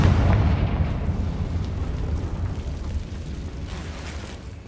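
A Confringo fire spell detonating in Hogwarts Legacy, a deep rumbling blast with a loud onset that rolls on and slowly fades, heavy low-end roar filling the whole stretch with no talk.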